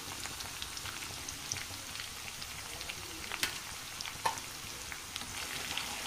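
Amaranth, fenugreek and coriander greens with poppy seeds fry in a pan with a soft, continuous sizzle and scattered light crackles, steady and fairly quiet with no talking.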